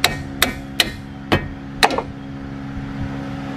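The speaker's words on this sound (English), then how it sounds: "you can get a rubber mallet and just kind of pop it out right now" A rubber mallet knocks against a Toyota Prius front strut linkage in five sharp, evenly spaced blows followed by a quieter pause, close and loud over a low background hum.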